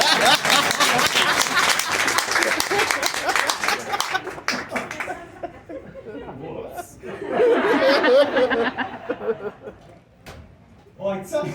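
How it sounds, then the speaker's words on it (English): An audience gives a round of applause for Stephanie at a Gatlinburg show: a few seconds of dense clapping that tapers off into chatter, chuckles and laughter, with people talking afterward. "Everyone give Stephanie a big round of applause"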